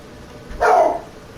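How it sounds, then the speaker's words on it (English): A single short dog bark, muffled and somewhat distant, standing alone against quiet room background. "Oh, my dog's barking."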